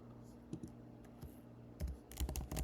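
Quiet, scattered keystrokes tap on a computer keyboard, a few isolated clicks at first and then a quicker burst of typing near the end, heard close up in a still room.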